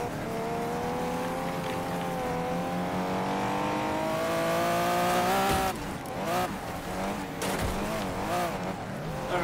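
Race car engine in the Wreckfest racing game, a steady rising drone that gives way after about six seconds to wavering, warbling tire squeals and skids, loud and continuous with no talk.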